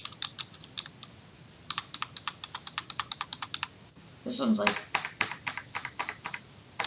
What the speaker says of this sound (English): Razer switches are really, really loud.